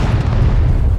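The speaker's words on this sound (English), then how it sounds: "We're eviscerating an entire line on the hill with our artillery right now" A single close, loud artillery cannon blast from a Civil War battle game booms heavily and rumbles through the full second, deep and sustained.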